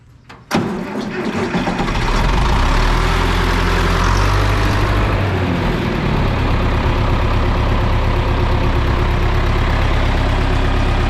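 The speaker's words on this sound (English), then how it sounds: "fire up the real high horsepower tractor here" A large high-horsepower tractor engine cranks and catches after a sharp start, then settles into a loud, steady, low rumbling idle close by.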